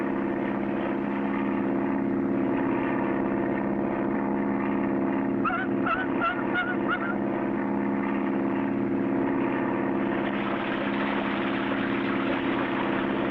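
A loud, steady propeller plane engine drones throughout with a brief burst of rattling and splashing midway as it makes a high-speed power landing on water with one float, then the engine note rises again.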